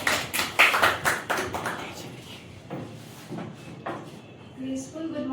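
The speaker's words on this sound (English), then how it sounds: "Clap for Priyanshu" A small audience claps for a student at a school competition, a brief burst of scattered hand claps that fades out within a couple of seconds, after which a voice begins speaking.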